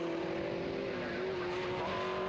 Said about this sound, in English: Marshall in the yellow fronted car looking for a way past Vincent Vellatini, but he can't do it yet.